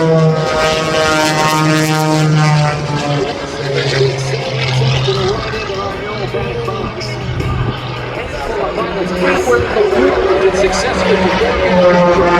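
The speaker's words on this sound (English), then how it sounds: "Skip Stewart and this muscle biplane we call Prometheus." Skip Stewart's Prometheus muscle biplane performs at the North Little Rock air show in October, its engine droning and shifting pitch, loud and continuous beneath an announcer's amplified commentary and crowd noise.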